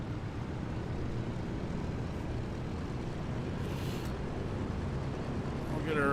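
A Douglas DC-3 propeller airliner taxis in a multiplayer flight simulator, its engines giving a steady low droning rumble that holds level throughout and swells slightly at the end.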